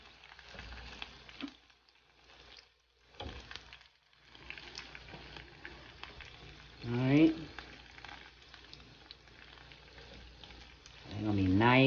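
Birria tacos fry in a pan of birria sauce, giving soft, uneven sizzling with scattered pops and crackles, close by and fairly quiet, broken by brief gaps and a couple of louder bursts.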